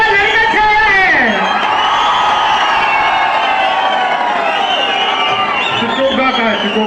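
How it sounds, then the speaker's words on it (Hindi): A loud crowd cheers, whoops and applauds at a winter carnival honoring ceremony in Manali, a dense sustained roar with a voice over a PA running under it throughout. "पहले तो भाई जोरदार तालियां भाई"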